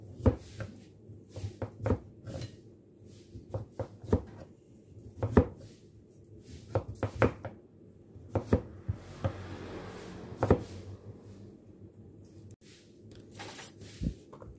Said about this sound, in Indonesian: Kita taruh kita potong-potong seperti ini ya bun